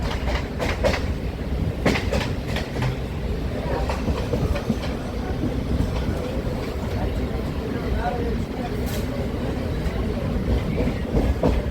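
Heard from on board, a Chennai local train runs along the track with a constant loud rumble and repeated clacking of wheels over joints, while voices talk faintly beneath the noise.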